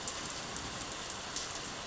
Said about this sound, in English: He watched the rain pounding almost horizontally at his study's window